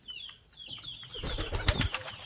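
Brief bird calls give way to a burst of rapid, scuffling wingbeats as pigeons tussle close by.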